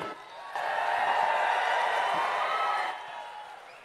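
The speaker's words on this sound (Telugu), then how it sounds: "जोर से ताली बजाओ" A large crowd at an outdoor political public meeting in Bhongir, Telangana claps and cheers in a steady, dense wash of applause for a few seconds before fading.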